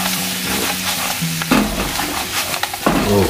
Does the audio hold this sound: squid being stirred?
yes